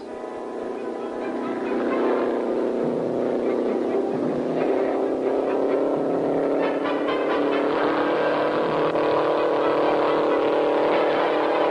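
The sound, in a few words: race car at speed, 1958 Argentine Grand Prix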